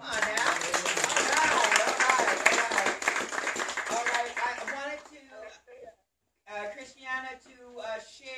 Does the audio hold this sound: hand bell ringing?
no